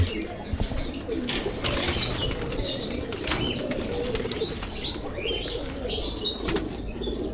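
Pigeons in a loft flutter and flap their wings in a busy, continuous clatter, with low cooing woven underneath and occasional chirps, close and fairly loud throughout.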